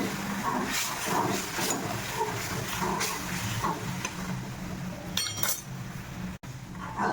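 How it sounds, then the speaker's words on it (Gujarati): Roasted bajra (millet) flour simmering with jaggery water for rab gives a constant steamy hiss and bubbling, with scattered clinks of a spoon stirring against the pot, close up and without talk. "થોડુંક એક ઉકાળો આવે ત્યાં સુધી ઉકાળશું રાબને."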